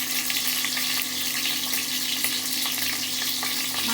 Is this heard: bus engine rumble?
no